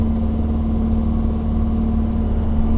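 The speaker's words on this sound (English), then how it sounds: "Got a car coming here." A car passing on a road near a worksite, heard as a steady engine drone with a strong constant hum, moderately loud and unbroken, with no talking.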